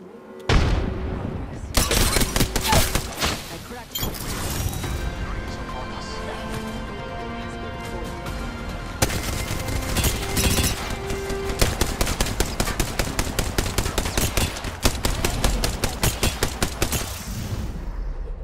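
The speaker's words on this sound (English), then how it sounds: "They're firing on me." Enemy gunfire in an Apex Legends ranked trios match: loud, dense bursts of rapid automatic shots and booming impacts, nearly continuous over a bed of game sound and effects.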